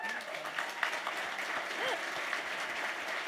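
A summit audience in Pittsburgh claps steadily throughout, a dense even wash of hands, moderately loud and sustained without a break.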